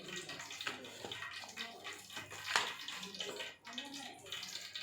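Water is poured and mixed into gram flour batter for coating green chillies, giving a soft splashing, trickling flow with brief pauses, close by and fairly quiet.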